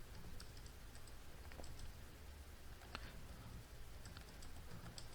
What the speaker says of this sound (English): So as you see, there's a lot of typing.